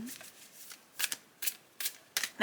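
Tarot cards with a matte finish riffled in several quick bursts, crisp papery flutters separated by short pauses, close by with no talking.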